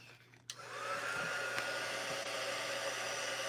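A hair dryer switches on with a click and then blows in a steady, close whir, drying a handmade craft piece.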